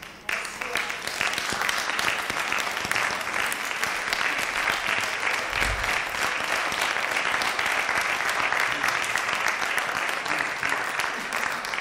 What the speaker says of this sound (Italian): E ora un applauso per Vince.